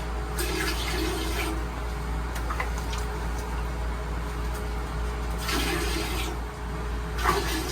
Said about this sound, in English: I'm just going to pour that into the toilet